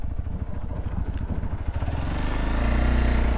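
A motorcycle engine runs on a mountain road trip from Halesi to Diktel in Nepal, a close, rough, throbbing rumble with clattering texture that grows steadier and louder toward the end, with no talk.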